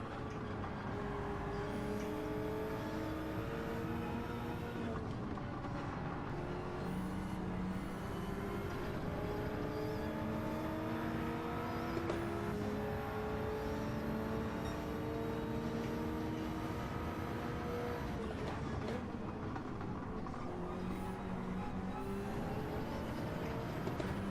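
Race car engine in Gran Turismo Gr.3 league racing, a steady loud drone with rising and falling revs and repeated gear shifts, including quick double shifts, running continuously with no talk.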